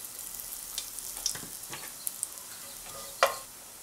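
Whole spices frying in hot oil for a spinach, pea and paneer rice: cloves, bay leaf, cumin and asafoetida give a steady soft sizzle with scattered small pops and one sharper crackle near the end, no talking.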